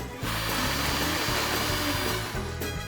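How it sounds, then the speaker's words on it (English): A blender purees softened chili pods into a marinade, its motor whirring loudly and steadily under a churning load, starting abruptly and then cutting off near the end. "I puree it. I will put it in the blender."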